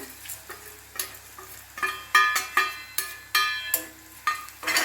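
Sliced onions and bitter gourd pieces sizzling in a frying pan while a spoon stirs them, with a steady hiss broken by repeated scraping strokes at a regular pace, close and clear.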